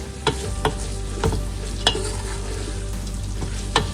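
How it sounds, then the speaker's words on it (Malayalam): Chopped onions sizzling in a pan for Kerala-style chicken biryani, with a steady frying hiss and sharp periodic scrapes of a spoon stirring against the pan, close and fairly loud. "അരിഞ്ഞു വെച്ചിരിക്കുന്ന സവോള ചേർത്ത് കൊടുക്കാം"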